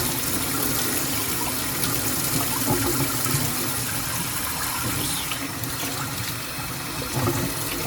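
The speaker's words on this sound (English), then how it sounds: "The low stream, warm water." Warm tap water runs in a low, steady stream to rinse a K&N air filter from a Can-Am Spyder, a continuous gentle splashing hiss throughout.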